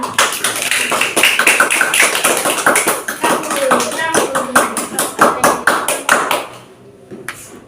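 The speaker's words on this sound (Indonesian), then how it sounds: "Tepuk tangan." A classroom of schoolchildren clap their hands together in a fast, loud, sharp burst that goes on for several seconds, then trails off into quieter shuffling, with a few voices calling out beneath the clapping.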